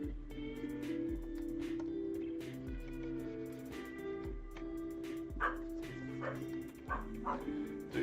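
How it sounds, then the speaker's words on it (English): A dog barks and yips indoors in the background at a moderate distance. The barks come as repeated short bursts and sit over steady tonal music. "Do excuse my dog in the background barking at the"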